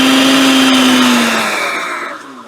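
A powerful blender motor whirs loudly in a short pulse, holding a steady high whine before slowing and fading as the button is released, with no speech.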